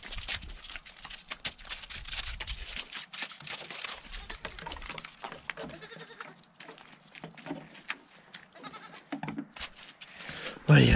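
Goats bleat in short bursts throughout, close by, amid shuffling and farmyard noise, with a louder cry near the end.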